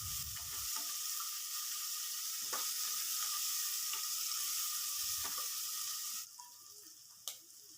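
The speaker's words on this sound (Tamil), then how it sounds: "வெங்காயம் நல்லா வதங்கணுங்க" Peeled small onions sauté in a pan for dal rice, producing a steady close hiss of frying broken by occasional scrapes and knocks of stirring before the sizzle drops quieter near the end.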